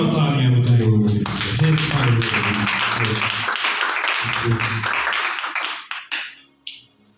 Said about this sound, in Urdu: خدا ان کے بندہ کے لیے زوردار تالیاں بجائے ہوئے